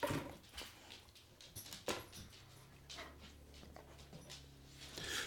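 A dog whimpers softly indoors, with faint, brief whines and a few higher squeaks over a quiet room background, along with a couple of soft knocks and rustles.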